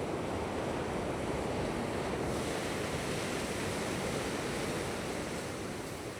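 Waves breaking close by on an Anglesey foreshore in a gentle breeze, a steady broadband wash of surf with a brief swell of hiss partway through, loud and continuous with no voices.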